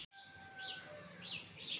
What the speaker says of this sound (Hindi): चिड़ियों के चहचहाने की और एक मुर्गे की आवाज़ें आ रही हैं।